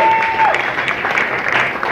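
A live crowd applauds a band at the end of their set in a small venue, loud continuous clapping, with a faint tone in the background.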